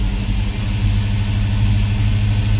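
An LS-swapped squarebody Chevrolet C10 idles with a misfire, a loud, close, low steady engine rumble holding an uneven throb throughout.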